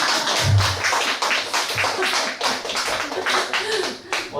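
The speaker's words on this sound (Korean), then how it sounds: "박수 한번" An audience at a literary talk show with poetry and song claps together in a steady, dense patter that fills the moment, with a voice speaking over the applause.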